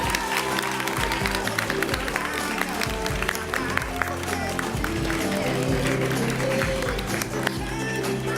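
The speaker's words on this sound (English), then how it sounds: "May I have a massive round of applause for Leon Mayer," Sustained audience applause at a student volunteering awards ceremony, dense clapping with some cheering filling the room steadily from start to finish.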